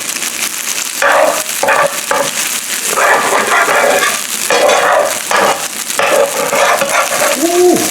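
Shrimp fried rice fries in an electric skillet, a close, steady sizzle broken by repeated scraping and stirring strokes of a utensil against the pan.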